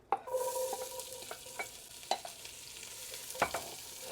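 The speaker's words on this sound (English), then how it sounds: "Because you hear that sizzle? They're releasing their flavor in there." A steady, close sizzle of onions frying in olive oil, with scattered clinks and scrapes of stirring on top; no voices.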